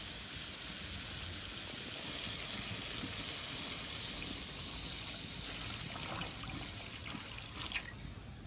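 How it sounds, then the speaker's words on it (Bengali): Broth is poured into a cooking pot of spiced potatoes for a fish curry over a village fire, making a steady, continuous trickling pour that runs throughout with no talking. "এখন ঝোল দিয়ে দিব।"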